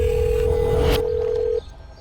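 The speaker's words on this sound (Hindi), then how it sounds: "अब देखो रिंग जा रही, फोन ही नहीं उठा रहा" A steady electronic tone sounds on an unanswered telephone call, holding for about a second and a half before cutting off, with a faint background hiss behind it.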